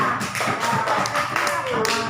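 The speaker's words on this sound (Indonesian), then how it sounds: "Tepuk tangan untuk kita semua" A classroom of students breaks into brief applause with a flurry of hand claps over about two seconds, while a voice carries faintly beneath them.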